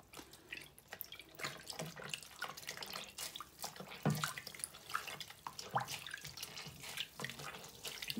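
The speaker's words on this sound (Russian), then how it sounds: "Сейчас я чуть-чуть еще воду открою" Tap water runs steadily into a bowl while wool felting, rinsing away dissolved interfacing, with splashing and sloshing bursts from hands working in the water, close and continuous.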